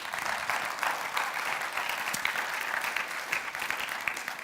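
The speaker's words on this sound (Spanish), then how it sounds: "Dele un aplauso" A church congregation claps during a sermon, a steady, moderately loud burst of applause filling the room without speech.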